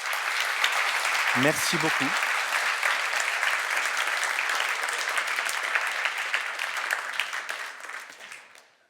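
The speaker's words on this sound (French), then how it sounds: "Applaudissez-les, s'il vous plaît" Sustained applause from a conference audience honoring volunteers, a dense, even wash of clapping that fills the room and slowly fades out, with a brief spoken thanks near the start.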